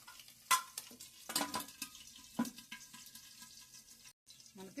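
Turmeric and green chillies spluttering in hot oil in a pan for mutton curry, with sharp crackling bursts and clinks of a stirring spoon against the pan, close and fairly quiet, with a brief silent gap near the end.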